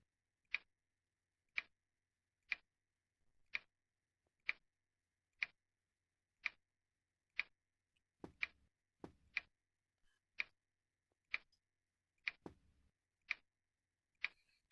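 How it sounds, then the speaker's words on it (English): Pendulum clock in the game Faust Alptraum ticks steadily about once a second, crisp and isolated against near silence, with a few faint low thumps near the end. "The pendulum ticked away mercilessly in the empty air"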